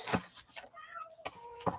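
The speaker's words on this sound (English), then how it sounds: "Cry all the time. Meow, meow, meow." A house cat meows indoors during a craft session trimming gel prints: a few short, faint, whiny meows with brief gaps between them, alone and without talk.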